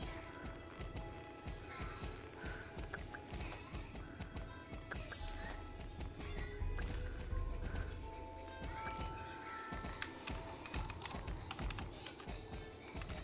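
Horse hooves clop in the Star Stable video game, a run of soft, fairly even taps repeating under game sounds and light background noise, quiet and close.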